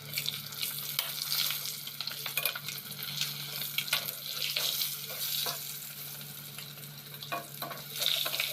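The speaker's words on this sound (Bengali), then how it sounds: "ডিমগুলো লাল লাল করে ভেজে নিলাম" Eggs with turmeric and salt frying in oil, a soft steady sizzle under scattered scraping and light clinks of a utensil, with a low hum beneath and no talking.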